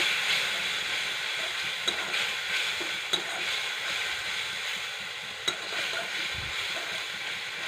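A ginger-cumin paste with turmeric and chili powder, loosened with a little water, fries in oil, giving a dense continuous sizzle close up with a few sharp clinks of a stirring utensil on the pan.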